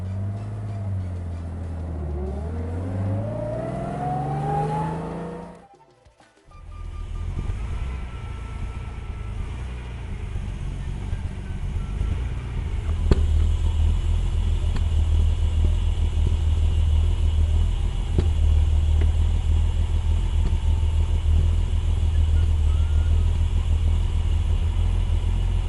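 A Mercedes-Benz 300 SL engine revs up with a rising whine, cuts out briefly, then settles into a steady, close, low idling rumble that carries on alone with no talk.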